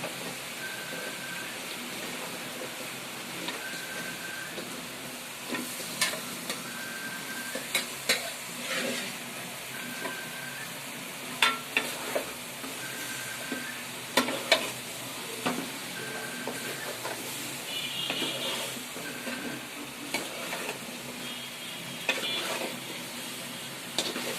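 Fish frying in a pan, a steady crackling sizzle with scattered pops and occasional stirring scrapes running throughout, close and fairly loud with no talking.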